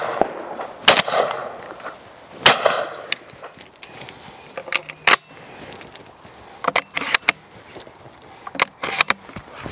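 A Maxxis semi-auto shotgun fires 24 gram cartridges outdoors, with a handful of sharp, loud reports spaced irregularly and some quicker pairs, plus clatter and handling noise between them.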